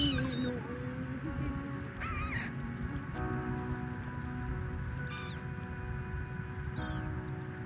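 Hungry ducks crowding for food make harsh, squawking calls at scattered moments over a constant low rumble of outdoor background noise, with a few brief nasal quacks standing out.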